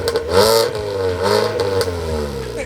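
A Wuling Cortez engine revs twice through a modified exhaust, each blip rising and falling in loud, close bursts with a raspy tone and a rumbling idle between.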